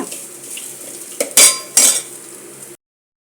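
Ingredients fry in a pot under a faint sizzle as a metal spoon stirs, with two sharp scraping clanks against the pot before the sound cuts off abruptly.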